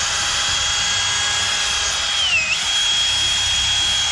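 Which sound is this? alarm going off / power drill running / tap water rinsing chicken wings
power drill running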